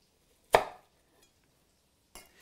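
Knife chopping through an onion on a cutting board: one crisp, close chop, a long pause, then two more quick cuts near the end, with no voices.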